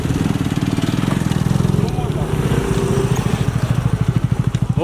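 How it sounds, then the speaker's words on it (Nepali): A scooter engine runs steadily with a pulsing putter while riding on a rough road, close and continuous, with a rider talking over it. "हाम्रो स्कुटर कुदिरहेछन् यस्तो बाटोमा"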